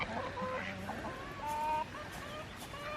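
Several chickens cluck and murmur nearby in a busy, overlapping chorus, with short higher-pitched calls rising above the steady flock noise.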